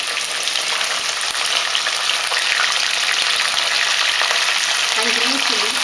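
Chopped ginger, curry leaves and green chilies frying in a pan give a steady, loud sizzle and crackle throughout, with faint voice-like tones near the end.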